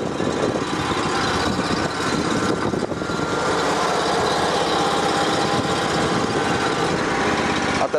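Gasoline fuel-injected engine of a Honda HSL2511J snowblower running steadily and loudly close by, a continuous even drone with no pauses and no talking over it.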